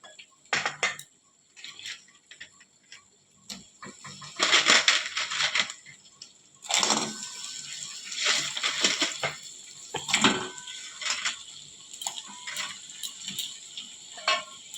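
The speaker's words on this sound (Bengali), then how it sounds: "এবার কাঁকড়াটা দিয়ে দেবো।" Crabs being tipped into a hot cooking pan with spiced masala, producing scattered crunching clatters and scraping bursts of shell against metal that come in uneven clusters, close and moderately loud, with no talking.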